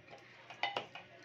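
Masala paste and tomato stirred lightly in a pan with oil and tempering for a traditional Bhogi vegetable dish; a few soft, close scraping clinks of a spoon over a quiet background.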